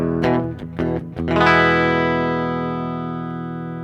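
An electric guitar with a Nobels ODR overdrive pedal bypassed plays a few quick clean picked notes, then one strummed chord rings out and slowly fades, close and alone.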